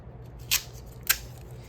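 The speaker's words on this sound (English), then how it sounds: "So again, pull it off, and you just tear it down." Duct tape is torn by hand from a strip in two short, sharp rips about half a second apart, close and crisp against a quiet background.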